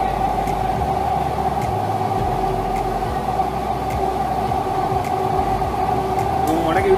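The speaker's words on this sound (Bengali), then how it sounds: "মেট্রো এখন চলছে দেখতে পাচ্ছ" Kolkata metro train from Sealdah toward Salt Lake running underground, a loud continuous rumble and hum inside the carriage with faint rattles over the whole stretch.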